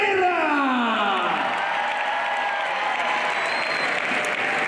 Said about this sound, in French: Je vous demande d'applaudir David Carrera